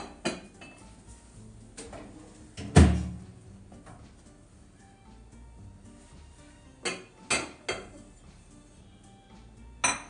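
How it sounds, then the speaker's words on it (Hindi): A glass dish clinks and clatters as it comes out of a microwave after roasting eggplant, with scattered sharp knocks and one heavy thunk near the start, fairly close and with no talk. "And then press the stop button, open the door."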